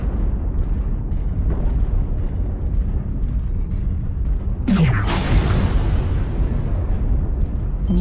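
Artillery strike explosions in MechWarrior Online, with a sharp blast arriving midway and a bright rumbling burst that trails off over steady background battle noise.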